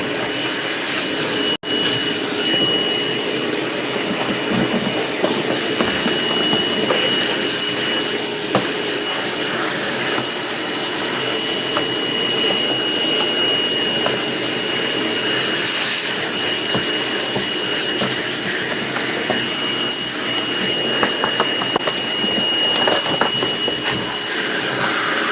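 Flex power tool running steadily with a dust-collection vacuum attached, a loud continuous whine and suction roar held unbroken for the whole stretch.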